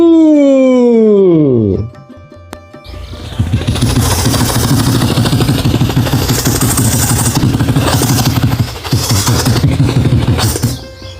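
A voice imitates a helicopter at a Maha Shivaratri festival on a quarry ground: a falling voiced sweep, then a loud, continuous rumbling whirr lasting several seconds.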